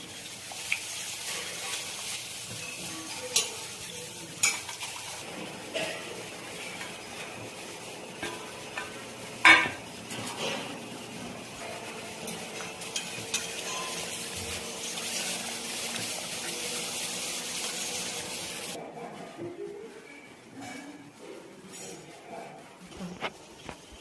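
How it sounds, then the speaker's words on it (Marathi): Urad dal papad frying in hot oil, a continuous soft bubbling sizzle with a few sharp clicks and one louder clatter, fading out near the end. "तेल गरम झालेलं आहे तर आपण अगोदर पापड तळून घेणार आहे उडदाचे पापड आहेत"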